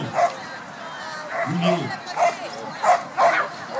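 A dog yips and barks several times at an agility competition. Short, sharp barks come in irregular bursts amid announcer-style talk.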